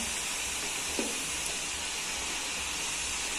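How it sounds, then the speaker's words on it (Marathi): Chakli made from moong dal and rice fry in hot oil, a steady close hissing sizzle that runs throughout at even level. "नंतर तळतीय जरा तांबूस होईपर्यंत आपण ह्याला भाजणार आहोत"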